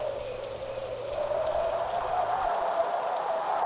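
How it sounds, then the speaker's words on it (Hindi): Steady rain falls in a forest with a broad, constant wash of drops and rushing cold wind, continuous throughout and fairly close. "जंगल में ठंडी हवा चल रही है और बारिश फिर शुरू हो जाती है।"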